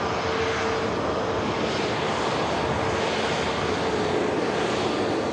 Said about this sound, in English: Embraer Phenom 300